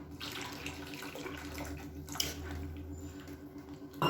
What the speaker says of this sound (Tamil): மஞ்சத்தூள் கொஞ்சமாக சேர்த்துட்டு தண்ணி இன்னும் கொஞ்சம் சேர்த்துக்கலாம்.